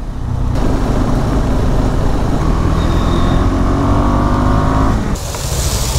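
A KTM Adventure 390 motorcycle riding along a city road in traffic, a loud, steady engine drone and rushing wind that holds evenly, then cuts off abruptly near the end.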